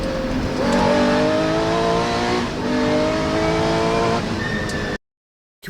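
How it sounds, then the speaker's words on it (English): A historic Porsche rally car engine screams at high revs, climbing through gears with rising and falling tones, loud and close before cutting abruptly to silence. "These historic Porsches are just beautiful, man. The way they sound and drive is so cool."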